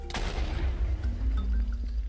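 Creeper explosion in the Minecraft video game, a heavy booming blast with low rumbling crackle lasting about two seconds, loud and close.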